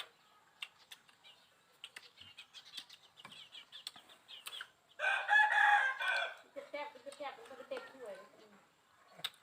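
Chickens cluck and a rooster crows loudly in the middle, close by at a rural home, with scattered clucks around it and people talking nearby.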